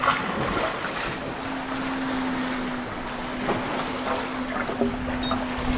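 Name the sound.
sailboat sailing at night on the Atlantic, wind and water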